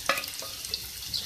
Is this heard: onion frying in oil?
yes